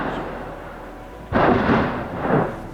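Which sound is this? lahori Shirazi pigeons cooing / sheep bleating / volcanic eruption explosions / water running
volcanic eruption explosions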